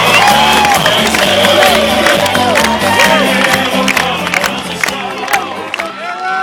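A large Collingwood family day crowd claps and cheers loudly for a player being introduced, with a continuous roar of applause, whoops and shouts, while an announcer's amplified voice carries over it.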